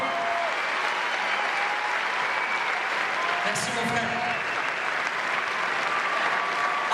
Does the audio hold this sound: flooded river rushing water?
no